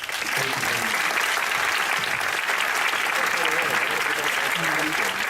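An audience at a documentary talk-back session applauds steadily and fairly loud for the whole stretch, with voices talking underneath the clapping.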